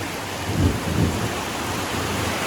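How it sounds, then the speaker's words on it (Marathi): Heavy rain pours in a dense, steady roar with low rumbles of thunder in a Konkan village during a May monsoon-like downpour, loud and continuous throughout. "आणि पावसाळ्यासारखं पाऊस पडतात."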